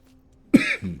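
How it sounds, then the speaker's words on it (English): A single close, harsh cough with a throaty rasp, followed by a short second huff, after near silence. "Still fighting off that cough."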